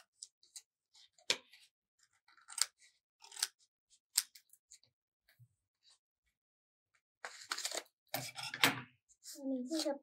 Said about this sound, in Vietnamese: Đó, và mình cũng sẽ cắt bỏ cái phần giấy con thừa.